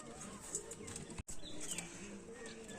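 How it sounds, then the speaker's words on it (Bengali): Golden pigeons, large long-bodied birds kept in a loft, coo softly and faintly with a few chirpy calls and rustles, quiet and close, with a brief dropout midway. "একদম লং লং সাইজের পায়রা আছে"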